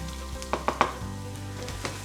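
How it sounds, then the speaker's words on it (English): Garlic and ginger sizzle in a teaspoon of olive oil in a pan, a steady frying hiss broken by a few sharp crackles and pops. "our ginger and our garlic is starting to sizzle"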